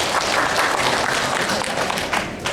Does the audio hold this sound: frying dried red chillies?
no